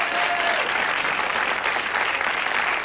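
Steady, dense applause from a television game show studio audience, continuous and fairly loud throughout as contestants settle, with crowd murmur blended in and no clear speech over it.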